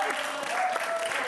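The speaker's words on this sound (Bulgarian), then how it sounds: "силни аплодисменти за създателите на цял един нов жанр в съвременната музика" A television studio audience on a Saturday-evening Bulgarian variety show gives a brief, dense burst of steady applause for singers Alex Panayotova and Viktor Nikolov, loud and continuous throughout.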